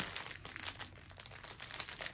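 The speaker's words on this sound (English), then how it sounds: "I'm sorry about the crinkling" Crinkling plastic packaging of a diamond painting kit, quiet, close rustles and crackles that continue in bursts throughout.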